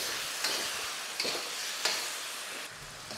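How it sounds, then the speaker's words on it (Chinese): Prawns and sugar snap peas stir-fried in a wok over high heat, a steady loud sizzle broken by a few sharp scraping tosses of the spatula, with no voices. "开大火翻炒。"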